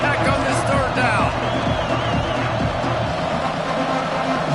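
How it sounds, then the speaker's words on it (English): Stadium crowd in the NCAA 26 college football video game, cheering for Tech on third down: a steady, dense roar of crowd noise running beneath continuous commentator speech. "The crowd electric, trying to help Tech on this third down."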